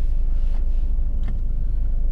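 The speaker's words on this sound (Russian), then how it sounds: "Заводим машинку." A SEAT Ateca's engine runs at a steady idle, a continuous low rumble filling the cabin with no voices over it.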